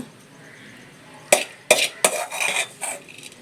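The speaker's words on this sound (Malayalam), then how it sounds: "മുരിങ്ങയില തോരൻ ഒരു മൺചട്ടിയിലോട്ട് ഞാൻ ആക്കുകയാണ്" A spoon scrapes and clinks as moringa leaf thoran is transferred into a small clay curry pot. The sharp scoops and knocks come close and fairly loud, several in quick irregular succession after a quiet start, and no one speaks.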